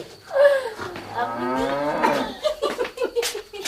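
A cow lows in a long, loud moo with a rising then sustained harmonic call, followed by brief faint chatter and rustling near the end.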